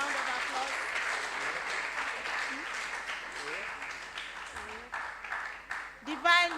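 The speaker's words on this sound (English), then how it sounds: "Give them a round of applause." Applause for contestants at a regional junior science and maths quiz, a moderate spread of clapping from the audience with voices and faint vocal sounds mixed in, fading unevenly toward the end.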